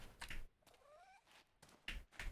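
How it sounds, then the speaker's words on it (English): Squeak, the cat in PowerWash Simulator 2, lets out a single short, rising meow, quiet and close, set between soft thumping knocks. "there is our cat. We can pet Squeak."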